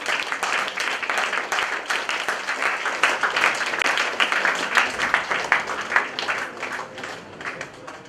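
An audience at a panel discussion clapping steadily, dense rhythmic hand claps filling the room at close range, continuous for several seconds.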